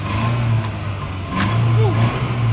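A wood-fired steam-powered car engine runs with a steady low hum, idling close by and picking up slightly partway through, with faint background noise.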